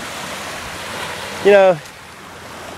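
Ocean waves wash steadily on a beach with oil tar mixed into the sand, a constant broadband rush, and a voice speaks briefly over it.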